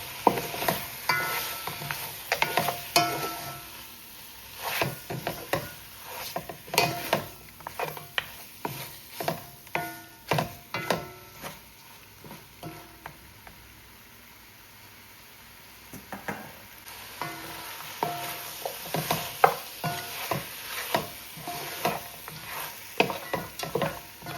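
Onion frying in a pot on the stovetop for Jamaican curried goat, a steady close sizzle broken by repeated sharp scraping and stirring knocks, with a quieter stretch midway before the stirring picks up again.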